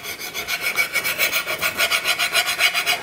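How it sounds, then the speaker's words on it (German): Underside of a woodturning gouge being honed on a CBN grinding plate, a close, rhythmic rasping stroke repeating back and forth about four times a second, with no talk. "Dann noch schnell die Unterseite mit der CBN-Schleifplatte abziehen"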